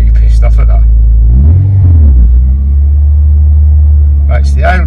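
A Honda EP3 with a K20 engine cranks on its starter motor and fires into a loud, steady idle rumble, with speech over the engine at the start and end.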